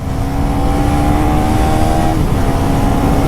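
A 2024 KTM Duke 390 motorcycle with throttle-by-wire revs and accelerates hard, its steady engine drone loud and close throughout with a rising tone, no talking over it.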